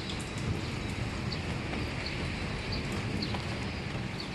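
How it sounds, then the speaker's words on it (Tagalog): Steady outdoor rain hiss, constant and fairly loud, with faint scattered drips and no voices. "bali nabutan sila ng ulan."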